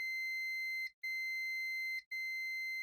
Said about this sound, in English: I'll beep all that.